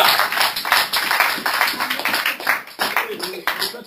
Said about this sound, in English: Let's just give the Lord a round of applause